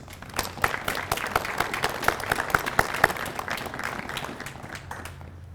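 An audience at a criminal justice training academy graduation applauds the special guests, many hands clapping in a lively, uneven patter that swells and then tapers off toward the end.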